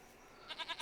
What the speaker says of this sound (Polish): Kozy jak to kozy.